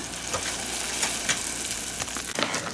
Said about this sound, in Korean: 자, 맛있게 볶아서 먹어봅시다.